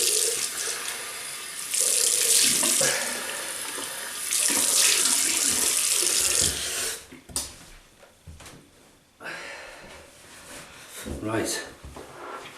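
A tap runs into a sink to rinse off after a wet shave with a razor, loud close gushing water in two long bursts, then quieter splashing and handling noises with brief talk.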